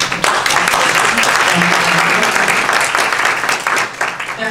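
Steady applause from an audience at an art exhibition talk fills the room, dense and continuous claps holding at an even level throughout before easing slightly at the end.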